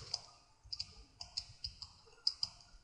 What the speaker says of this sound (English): Then use my arrow key on the keyboard and just move it left.